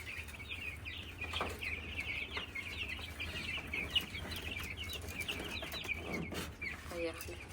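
Many week-old chicks peep continuously in a busy high-pitched chorus, fairly faint, with some low background rumble.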